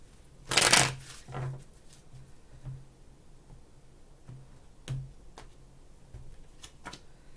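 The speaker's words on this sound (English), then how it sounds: "Two more shuffles, please." Cards are shuffled in a quick riffle, then a few softer shuffles and light taps follow in a quiet room.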